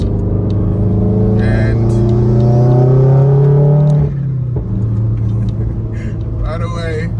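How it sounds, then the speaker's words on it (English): Inside a bagged 2019 Subaru WRX on the move, the engine pulls with a rising drone that drops off around four seconds as it shifts, then settles into a steady rumble under a voice. "Here we are in Brandon's 2019 WRX, which is bagged."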